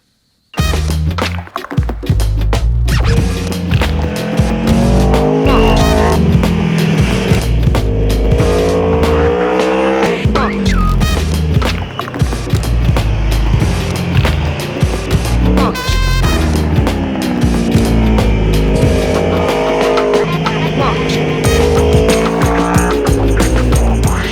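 A 2019 Aprilia Tuono V4 1100 Factory motorcycle ridden hard, its V4 engine roaring loudly and continuously, with repeated revving rises and falls through the gears along with wind rush and no talking.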